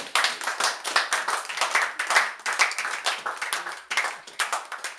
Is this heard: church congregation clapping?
yes